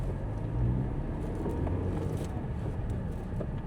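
A 1995 VW Polo Harlekin runs in first gear, its engine a low, steady rumble heard from inside the car, continuous and moderately loud with some wind noise over it.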